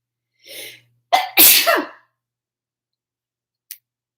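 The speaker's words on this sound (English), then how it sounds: "Big sneeze." A single loud sneeze up close, with a short intake of breath before it and a faint click a moment after.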